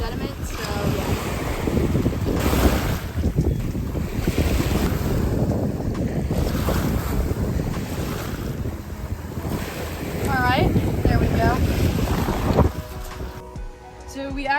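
Ocean surf rolls and breaks steadily along a Long Island beach, loud and close with heavy wind buffeting the microphone throughout, and the roar eases near the end.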